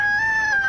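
A brief, loud, close rooster crow from a hen house, a single sustained tonal call with no speech.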